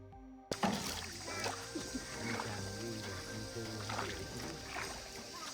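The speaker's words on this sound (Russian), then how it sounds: "Плаваем на лодке" A rowing boat glides through water inside a cave in Vietnam, with soft splashes and oar strokes over a dim, echoing background and occasional faint voices.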